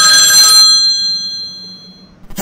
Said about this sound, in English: I will call the Douglas right now.